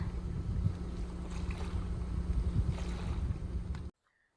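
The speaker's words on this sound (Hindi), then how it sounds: "साइलेंट रखो, देखो पानी की आवाज।" Lake water laps and sloshes at a quiet campsite by the shore in Maharashtra, a steady close wash with soft splashes and some wind rumble. The sound cuts off abruptly near the end.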